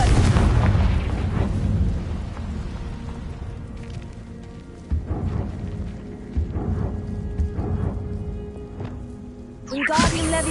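Confringo blasting spell in Hogwarts Legacy bursts with a heavy boom that rumbles and fades, followed by further thuds and a closing crack, loud and close.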